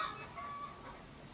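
Chickens on a cold, breezy day, a single soft cluck heard faintly over wind noise, brief and somewhat distant.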